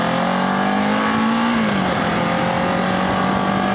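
A Kawasaki Ninja 650 motorcycle rides at about 100 km/h, its engine a steady loud drone with a slight pitch shift under heavy wind rush, continuous throughout.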